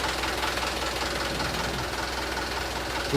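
A truck engine fresh from an overhaul runs steadily close by with a busy, knocking mechanical clatter and no talk over it.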